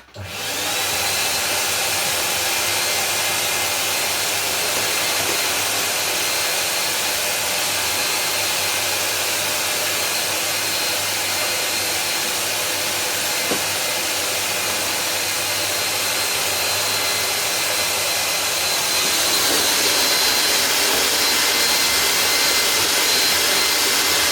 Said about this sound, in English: quickly do some vacuuming with the bendy ones